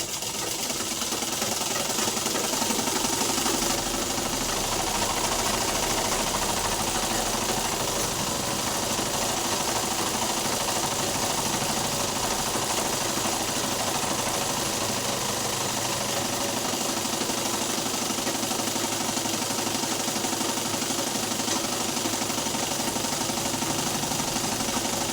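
A sewing machine stitches the lining of a silk skirt in a steady, continuous whirring hum with a rapid needle chatter, close and loud for the full stretch with no pauses.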